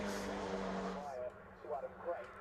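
Race cars sweep past at Cadwell Park circuit, their engine notes rising and then falling away as they go by, with a commentator talking over them.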